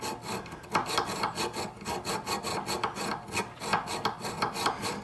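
A file is drawn sideways across a spokeshave blade in rhythmic, close rasping strokes, roughly two per second, with no talk.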